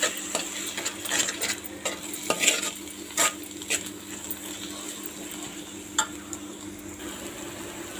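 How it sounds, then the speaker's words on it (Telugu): Two eggs frying in a pan for spicy egg noodles, with a soft sizzle underneath and repeated scraping and clinking of a spatula against the pan as they are stirred, close and moderately quiet. "వేసి ఫ్రై చేసుకోవాలి."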